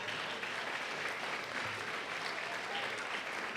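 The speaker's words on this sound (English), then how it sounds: "Give him that round of applause." A roast audience gives Ben Barnes a sustained round of applause, dense steady clapping from a large crowd filling the room without pause.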